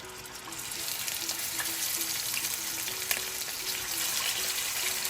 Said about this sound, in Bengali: এখন আমি একে একে মাছের টুকরোগুলো দিয়ে দেব